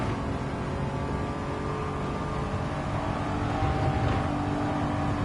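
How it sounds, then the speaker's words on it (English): Steady engine drone of a race car in Gran Turismo 7, held at a constant high pitch with a slight rise in revs near the end, continuous and close with no talking. "Surely this car drives good."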